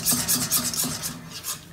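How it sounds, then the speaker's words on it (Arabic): Custard cream being stirred in a pot over the heat, a spoon scraping and rubbing the bottom in quick, steady rhythmic strokes, close and fairly loud with no talking. "ونحركوها بشوي بشوي من غير ما نقصوا التحريك"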